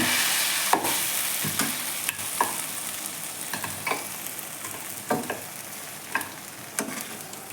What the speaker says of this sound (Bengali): এবার আমি মাংসটা প্রেশার কুকারে ঢেলে নেবো